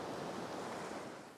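Ocean surf washes back out on a Hilton Head Island beach at sunrise, a broad, steady hiss of receding water with light wind noise and no voices.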